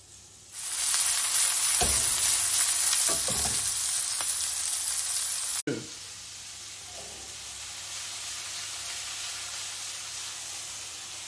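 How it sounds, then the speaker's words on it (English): Thai chicken meatballs dropped into a hot pan burst into loud, dense sizzling that holds steady, with a few soft knocks and a sharp clatter partway through before the frying settles to a quieter hiss. "I'm going to fry the meatballs, and then we'll add the vegetables back in."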